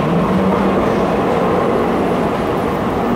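A San Francisco Muni light rail car pulls in with a loud, broad, continuous rumble and a faint low hum, steady throughout with no talking.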